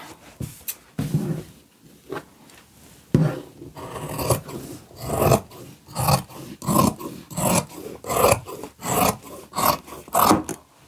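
Scissors cut through two layers of t-shirt fabric at once, giving a run of rasping, rhythmic snips that grow steadier and louder through the second half, heard close up with no talking.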